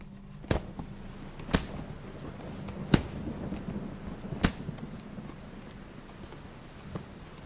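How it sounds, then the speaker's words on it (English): Rain falls steadily at low level, broken by several sharp, distant thunder cracks spaced a second or so apart. "As the rain continues to fall"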